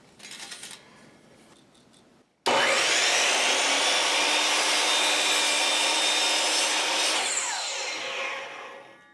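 Wood pieces for the outside trim of a cat door being cut in a garage with a power saw, a loud continuous whining cut that starts abruptly after a brief quieter stretch and tapers off at the end.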